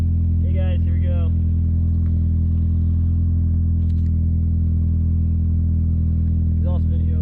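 A 3rd-generation Honda with a full 2.5-inch stainless steel exhaust rumbles with a deep, steady engine drone from start to finish, loud and close, with brief talk near the beginning and end.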